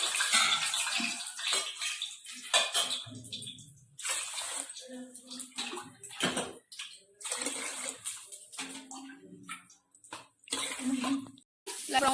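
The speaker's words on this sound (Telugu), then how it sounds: "6 గ్లాసెస్ ఆఫ్ వాటర్ వేసుకొని" Water pours in repeated bursts into a container, splashing and gurgling up close, with pauses between pours.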